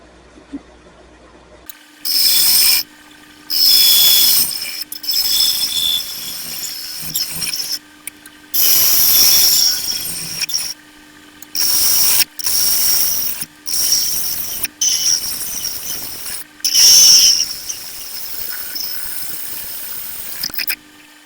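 Wood lathe spinning at about 3,000 RPM as a half-inch gouge cuts a segmented wood turning, loud close bursts of cutting noise lasting a second or two each, separated by short quiet gaps, with no talk.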